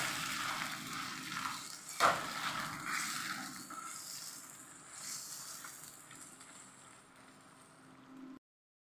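Chicken drops into ginger garlic paste frying in a pan for a chicken and drumstick curry, bursting into a sharp sizzle that settles into a steady, gentle frying hiss before cutting off abruptly, with no talking.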